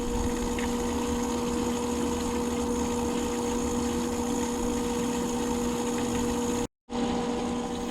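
An Intex 1200 GPH Krystal Clear sand filter pump, fitted to a Summer Waves pool, runs in rinse mode with a steady, close mechanical hum and water drone. The sound cuts out briefly near the end, then resumes.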